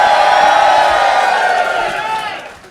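A live audience at a London comedy podcast show breaks into loud, sustained cheering and whooping that fills the room, then slowly fades.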